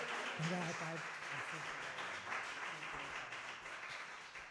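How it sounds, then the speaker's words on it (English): An audience at a music school winter recital claps for a performer, dense steady applause filling the room for several seconds and slowly easing off. "Everyone give Margaret Faust a round of applause."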